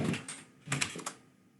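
A few quick keystrokes on a computer keyboard, close and fairly quiet, as a short command is typed in a short burst of clicks with no talking.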